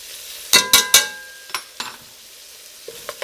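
A metal spoon stirs about two cloves of garlic into a sizzling pan while making boeuf bourguignon, three quick loud clanks followed by softer scrapes and knocks over a faint frying hiss, no talking.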